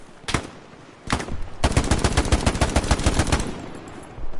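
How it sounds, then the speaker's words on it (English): Automatic weapons fire in the World War II shooter Hell Let Loose on PS5: two separate loud shots, then a rapid sustained machine-gun burst of sharp cracks at close range, with no talk over it. "I'm getting shot at here."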